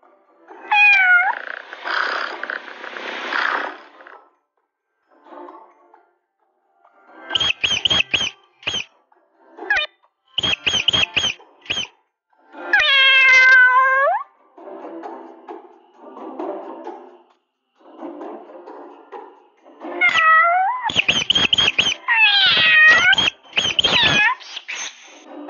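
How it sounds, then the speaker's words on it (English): A cat meows repeatedly in short bursts separated by silent gaps, with squeaky cries and a few drawn-out, rising and falling calls, close and fairly loud. "C, cat."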